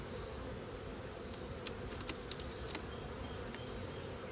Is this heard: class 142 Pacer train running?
no